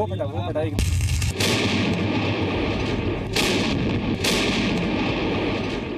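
A Bofors artillery gun fires rounds in a field setting, with heavy booming blasts that roll into a long rumbling roar, sharp repeated reports punctuating a continuous loud, dense wash of noise.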